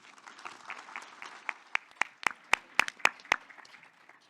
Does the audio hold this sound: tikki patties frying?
no